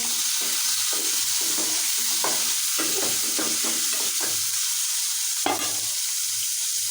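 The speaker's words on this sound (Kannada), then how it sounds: "ನಾನು ಎಣ್ಣೆಲಿ ಒಂದು ಸ್ವಲ್ಪ ಫ್ರೈ ಅಲ್ರಿ ಒಂದೆರಡು ನಿಮಿಷ ಇಡ್ತೀನಿ ರೀ" Brinjal curry fries in oil in a covered pan, giving a continuous close sizzle broken by a run of sharp scraping stirs and clinks, then one louder knock near the end, with no talking.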